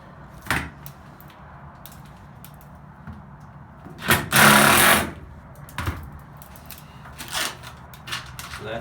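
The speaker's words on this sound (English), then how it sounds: "Little impact driver is a sweet little tool." An impact driver sinks screws into aluminum diamond plate flooring, with rapid hammering bursts of varying length, one longer sustained run in the middle, close and loud over a steady background hum.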